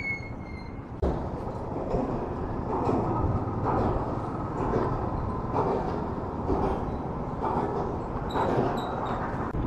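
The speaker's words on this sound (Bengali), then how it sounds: "ট্রেনটা সবে জাস্ট ঢুকছে, দেখতে পাচ্ছ।" A train rolls into a station, its wagons rumbling with rhythmic wheel clatter and a high metallic squeal of wheels, heard from fairly close and sustained throughout, without talk.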